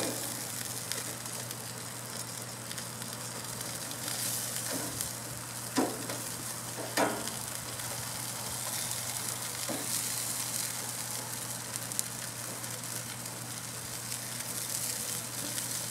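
Tomato basil burgers sizzle on a backyard grill just after being flipped, a steady broadband fry with a constant low hum and a few sharp pops and crackles, no talking.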